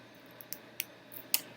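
A few small snips of scissors cutting sewing thread after hand stitching, three or four crisp close clicks spaced irregularly in a quiet room.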